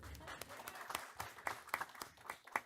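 Audience at a school board meeting applauding a cross country team, a short burst of scattered hand claps, modest in volume and fairly close.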